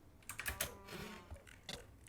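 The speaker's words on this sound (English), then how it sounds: "Like, you can hear his keyboard, you can hear his clicking" Fast, light clacking of a computer keyboard with a few sharper clicks, close and fairly quiet, typed in short uneven bursts with no voices.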